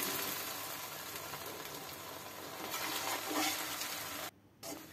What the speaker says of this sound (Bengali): এভাবে আস্তে আস্তে নাড়াচাড়া করতে করতে আস্তে আস্তে ভাজা হবে